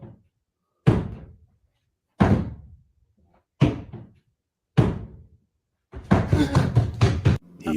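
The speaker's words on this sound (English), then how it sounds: "He opens the basement door" A basement door bangs loudly four times at spaced intervals, each sharp thud ringing briefly, followed by a rapid rattling burst of knocks and bumps, with no voices.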